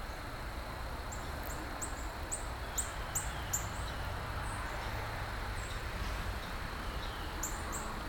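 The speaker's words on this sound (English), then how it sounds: "See that cardinal? That was a cardinal," Late-fall woods with a cardinal giving a series of short, sharp chirping calls, repeated in loose bursts over steady low background noise.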